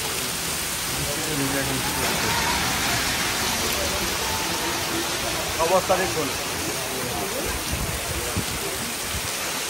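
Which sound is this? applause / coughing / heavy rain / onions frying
heavy rain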